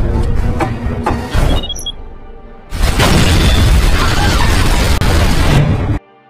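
A loud, sustained explosive roar from a film scene bursts in after a jumble of crashing noise and a brief lull, rumbling for several seconds before cutting off.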